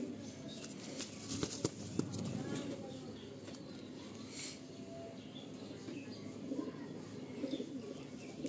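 Madrasi pigeons at a loft cooing and chirping, soft continuous calls with occasional wing rustles under someone talking nearby.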